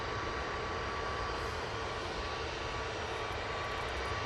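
An Airbus A320neo jet at Manchester Airport produces a dense, continuous engine roar, loud and unbroken through the short stretch, with a faint steady tone running along it.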